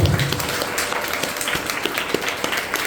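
A concert audience applauds a singer at a Carnatic music performance with dense, steady clapping from a mid-sized crowd, close and sustained across the whole span.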